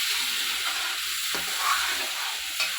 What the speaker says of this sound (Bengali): হাতা খুন্তির শব্দ কিন্তু হবেই